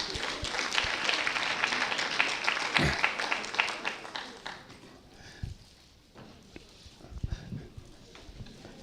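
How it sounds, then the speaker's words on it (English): Applause from an audience at a provincial education department event, a broad wash of clapping for the first half that thins out, with scattered claps and movement noise afterward. "Another round of applause."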